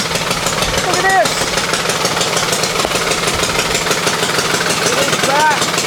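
A racing kart engine runs steadily just after starting, a continuous close rattling idle with a constant buzzing drone and no pauses throughout.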